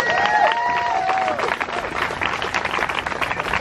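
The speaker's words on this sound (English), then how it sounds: "I want to give them a round of applause" Crowd applause and cheering at an outdoor Pride in the Park gathering in Glen Rock, dense clapping rising with a few whoops and whistles early on, then carrying on as a steady, fairly loud wash.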